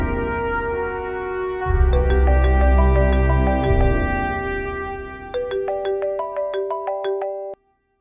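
A phone ringtone plays a bright electronic melody, pausing briefly before a second chiming phrase that stops abruptly.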